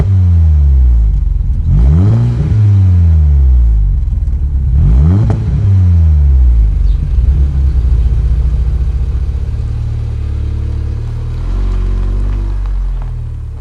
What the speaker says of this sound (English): I'm going to give you a demonstration of what this car sounds like standard from the back. I'll give it a few revs.